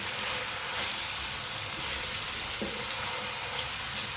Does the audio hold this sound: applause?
no